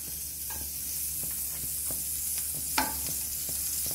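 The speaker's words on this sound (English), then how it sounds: "I'm gonna toss a piece of butter" Butter melting in a hot pan while cooking roast fish with spicy coconut pumpkin, a steady soft sizzle and hiss with occasional light clicks and stirring scrapes, close and moderately quiet, no talking.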